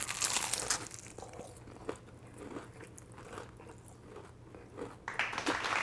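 A close, loud crunchy bite into buttermilk southern fried chicken topped with hot sauce, crackling bursts at the start and again near the end, with softer chewing crunches in between and no talking.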